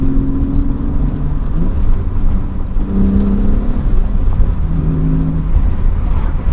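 A BMW E36 M3 engine with a Turner Motorsport intake revs with a deep, throaty intake roar, its pitch rising and falling in a few surges.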